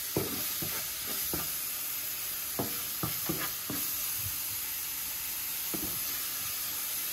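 Chopped onions sizzling in butter in a pan, with a steady frying hiss and a series of soft scraping stirs spread throughout.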